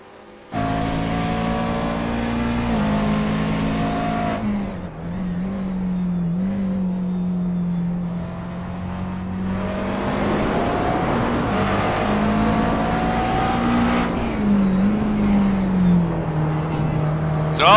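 Race cars at a multiclass race at Watkins Glen drone and whine continuously, engines holding steady tones then rising as they accelerate and pass, loud and close throughout with brief shifts in pitch.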